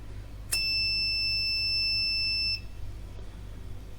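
A steady, piercing electronic alarm tone from a hobby robotics fire alarm buzzer sounds continuously for about two seconds, loud and close, then cuts off, leaving a low background hum.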